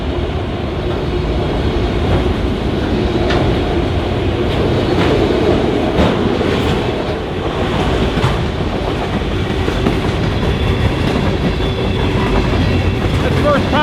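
A Norfolk Southern freight train rolls steadily past, with an auto rack dragging a piece of equipment. Continuous loud rumbling and clickety-clack of wheels go on throughout.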